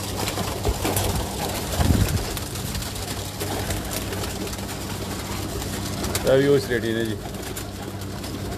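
Pigeons coo on a rooftop amid steady background noise, with a soft burst of cooing toward the end while someone talks intermittently throughout.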